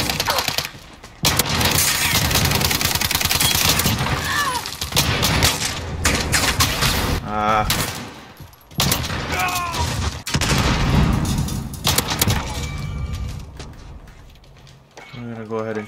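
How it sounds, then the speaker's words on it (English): In Call of Duty Modern Warfare, an R90 shotgun loaded with Dragon's Breath fire rounds blasts again and again amid dense, loud game gunfire and booms. The barrage is nearly continuous, with a voice mixed into the chaotic mix. "We're gonna be using the R90 with fire breath"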